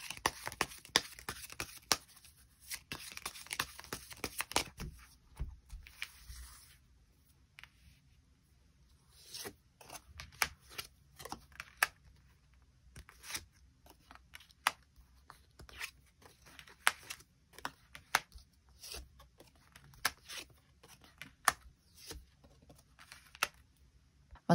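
Tarot cards shuffled and drawn for a love reading, a long stretch of sharp close riffling bursts and flicks with short pauses between, loud and alone.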